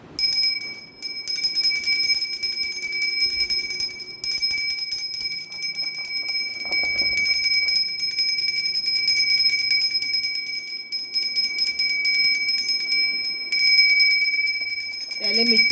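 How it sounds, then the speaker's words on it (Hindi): A small bell rings with bright, sustained metallic tones, repeated in several bursts, while a voice speaks over it. "पहले हम ज़रा सा घंटी बजाएंगे"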